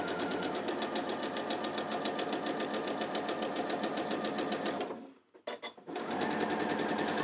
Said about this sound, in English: I'm just going to sew along here